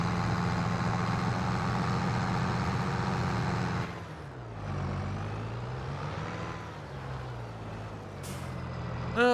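Heavy farm tractor engine rumbling loudly while plowing a grass field in Farming Simulator 22, dipping and changing pitch partway through, then a brief hiss near the end.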